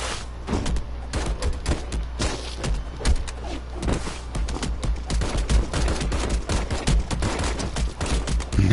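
Dense rapid gunfire in the Mother Russia Bleeds video game, a continuous fusillade of overlapping shots and thuds running loud throughout, with no talking.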